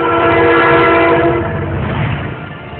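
A train passes close by, sounding a loud, sustained horn over the rumble and clatter of wheels on rails, the horn fading slightly toward the end.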